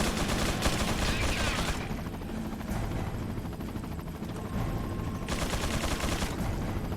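Gunfire rattles in Resident Evil 4 on a prison island level, bursts of rapid shots over a steady helicopter rotor drone, with two dense volleys separated by a quieter stretch.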